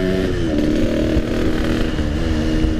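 A Yamaha RX King two-stroke motorcycle engine revs loudly and close by in a continuous, buzzy rasp that rises and falls slightly over a few seconds.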